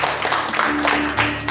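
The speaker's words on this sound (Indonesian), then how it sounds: "Puji nama Tuhan, kita berikan tepuk tangan." Applause from guests at a wedding ceremony, a steady wash of clapping lasting under two seconds with a faint sustained tone underneath.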